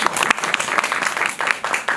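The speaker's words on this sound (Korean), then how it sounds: "박수 한번 다시 부탁드릴게요" A theater audience at a film screening Q&A claps in loud, dense bursts of applause, close and lively, with brief dips between swells.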